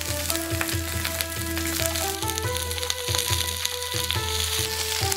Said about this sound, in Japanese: 野菜の食感を残すにはさっと手早く炒めるのがコツ。